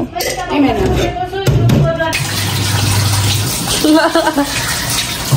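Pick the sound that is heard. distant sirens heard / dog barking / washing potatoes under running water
washing potatoes under running water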